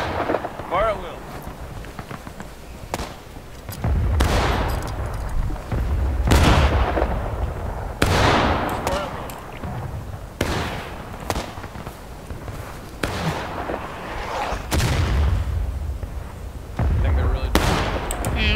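Musket volleys in the American Civil War game War of Rights, fought around a bridge skirmish: loud, booming shots crack out irregularly, a few seconds apart, near and far, while someone talks between them.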